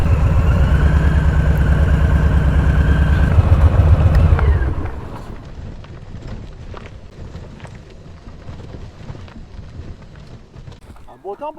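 Motorcycle engine running close by with a steady rumbling note for about four seconds, then dropping away to a quieter idle-like background with rustling and handling noises.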